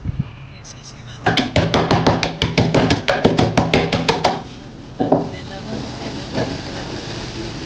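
Rapid, regular pounding strikes as rock sugar is crushed into small pieces, about a dozen sharp thuds in quick succession, then a pause and a few more scattered hits, close and loud.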